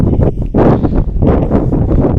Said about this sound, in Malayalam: നല്ല കാറ്റുണ്ട് ഇപ്പോൾ.